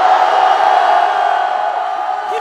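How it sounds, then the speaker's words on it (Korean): A large crowd at an outdoor political rally in Korea against the president's impeachment roars in sustained shouting and cheering, loud and continuous throughout. "우리의 함성이 들리십니까?"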